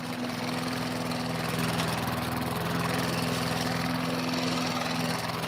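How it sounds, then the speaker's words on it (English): Lawn mowers cut residential lawns with a steady, droning engine hum that holds at an even level throughout, with no talk. "Guys on lawnmowers mowing their little lawns"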